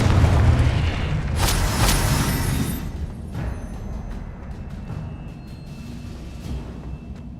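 A Confringo blasting spell in Hogwarts Legacy sets off a deep, loud boom with a rumbling burst, then the roar fades into a lingering low wash with faint crackles.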